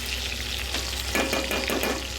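Prawn pakoras sizzle steadily in hot oil, a close, continuous crackle with bursts of stirring, and no voices.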